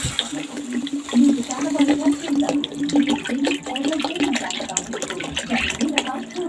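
Water pours into a cooking pot of potatoes and papaya curry in a home kitchen, a continuous splashing and gurgling stream with faint clinks heard close by.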